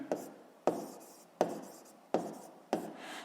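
Pen or pencil writing down a sixth-grade maths answer on paper, five quick scratchy strokes spaced about two-thirds of a second apart, close and quiet with no talk.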